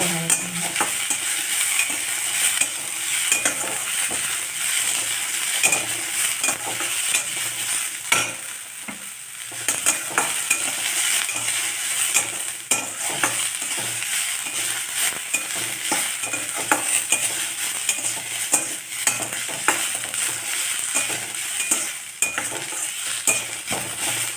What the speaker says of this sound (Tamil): ஒரு நிமிஷம் நல்லா வதக்கிக்கலாம்